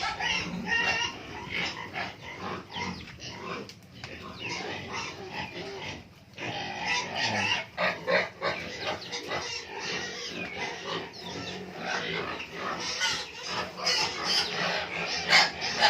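Backyard pigs and piglets grunt and oink continuously at close range, with overlapping squeals and snuffling from several animals throughout.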